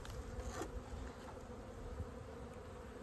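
Honey bees swarm into a dead-out winter hive to rob it, a steady close insect buzz filling the air without pause.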